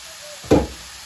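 Beans, carrots and potatoes stirred in a frying pan, a single short scrape and clatter of the spoon through the vegetables over a faint background hiss.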